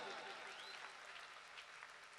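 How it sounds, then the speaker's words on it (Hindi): Crowd at a Ramdev Baba bhajan jagran at a temple giving loud applause, a continuous, even roar of clapping that holds steady throughout with a faint voice mixed in. "मेरे राम साहब पीर के लिए जोरदार ताली बजा दीजिए"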